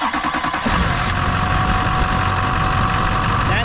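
A farm engine, with a fault that keeps it from staying running, cranks in rapid uneven chugs, then catches into a loud, steady rumbling run close by.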